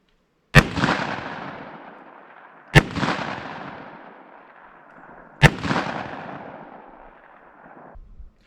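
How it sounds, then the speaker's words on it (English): Three sharp, loud gunshots about two and a half seconds apart, each trailing into a long decaying echo, as Underwood Extreme Defense ammunition is fired into a meat target from 7 yards. "I'll shoot this from 7 yards with our Underwood Superior High Performance Extreme Defense ammunition"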